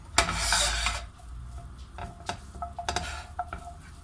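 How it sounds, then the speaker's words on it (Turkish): Broccoli is tossed in oil in a pan, heard as a soft sizzle at first, followed by scattered scraping and clinking of a utensil against the pan, close and fairly quiet. "İçerisine brokolilerimi atacağım. Şöyle 1-2 dakika yağda çevireceğim."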